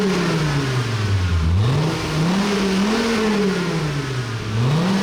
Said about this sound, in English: take a listen to a few revs from the side pipe